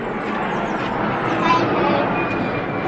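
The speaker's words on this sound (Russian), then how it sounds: "Самолет полетел." An airplane flies overhead outdoors, a steady broad engine roar that swells slightly in the middle and stays loud throughout.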